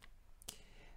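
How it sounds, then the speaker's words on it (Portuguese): A computer mouse gives a quick double click, two crisp taps close together, near and quiet over a low room hum with no one talking. "Duplo clique."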